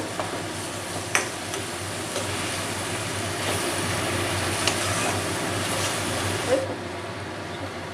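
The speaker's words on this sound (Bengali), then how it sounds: "আর একটু আদা বাটা দিয়ে আবার একটু নেড়ে নেব" Crab curry with ginger paste being stirred in a pan, giving a steady soft sizzle and scraping that runs continuously, with a few louder clinks of the spoon against the pan.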